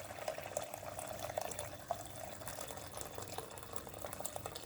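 Hot water is poured into a cooking pot for budget spaghetti bolognese, making a steady, fairly faint splashing and bubbling stream with a few soft drips and no speech.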